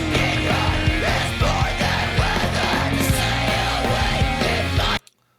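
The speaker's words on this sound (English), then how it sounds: "the syncopated scream accents, matching all the hits of the pattern of the drums" Screamed vocal accents hit in syncopation with the drum pattern in a Midwest emo song, loud and dense over guitars and drums before cutting off abruptly near the end.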